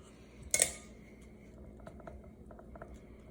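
Metal muffin tray filled with apple muffin batter, shaken and tapped on a counter: one sharp clattering metallic knock, then faint small rattles and taps trailing off in a quiet kitchen.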